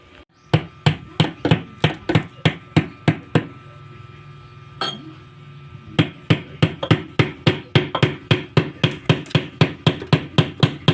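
Sharp, regular hammer blows ring out in a fast steady rhythm, pausing briefly in the middle before resuming at the same pace.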